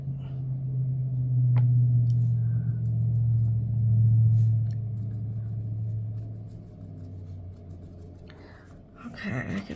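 Low rumble of heavy vehicles passing outside a room, a steady muffled drone rising and fading over several seconds, heard faintly beneath quiet indoor sounds and a brief scrape near the end.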